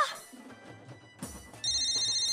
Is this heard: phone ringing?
yes